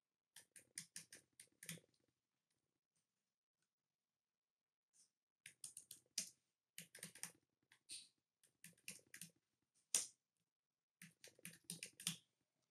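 Typing on a computer keyboard: quiet, close bursts of rapid key clicks separated by pauses, with a couple of isolated taps, no voice.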